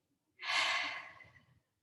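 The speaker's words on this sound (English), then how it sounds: "Breath in and breath out." A single slow breath during a guided relaxation exercise, drawn in and released as a soft, close, airy rush lasting about a second, then fading into silence with no talking.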